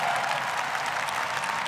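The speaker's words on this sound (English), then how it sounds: "Hand clap." An audience at a believers' convention gives a short burst of dense applause for the speaker's wife, a steady, close wash of clapping lasting under two seconds.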